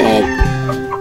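A Chinese Silkie hen gives a single close, loud cluck that drops into a short throaty note.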